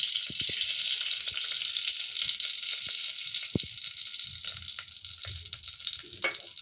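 Semolina sizzles in a pan with cloves and cardamom for suji halwa, a constant close frying hiss broken by sharp clicks and scrapes of stirring, with no talking.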